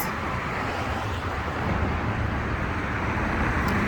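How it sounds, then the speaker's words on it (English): Steady road traffic noise outside a community gate, a continuous broadband rumble and hiss of passing vehicles at moderate distance, with no speech. "Sorry about the road noise."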